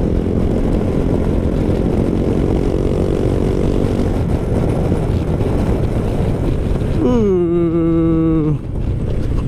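A Honda Forza 250 scooter with an aftermarket exhaust is ridden under heavy, steady wind rush, then its engine note drops sharply in pitch near the end as it slows.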